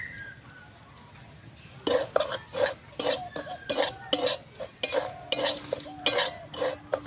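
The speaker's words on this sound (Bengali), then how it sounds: "সুজি দিয়ে দেবো সুজিটা অল্প একটু নেড়ে নেব" Semolina (suji) stirred in a pan with white oil, starting after a quiet lead-in, then a series of sharp scraping spoon strokes against the pan in uneven rhythm, close and clear.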